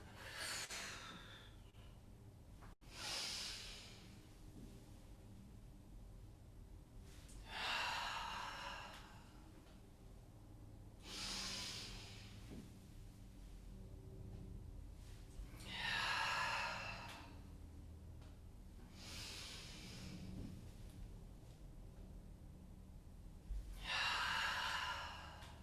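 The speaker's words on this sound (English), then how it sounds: "Deep inhales through the nose and strong exhales out the mouth." Slow deep breathing during a movement meditation, with quiet inhales through the nose and about six strong, breathy exhales out the mouth at regular intervals, close and alone over a low hum.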